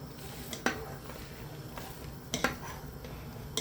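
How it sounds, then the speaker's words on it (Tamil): A spoon stirs paruppu rasam in a pot, giving a few sharp metallic clinks and scrapes against a quiet, faintly hissing background. "கிண்டி விட்டுக்குவோம்."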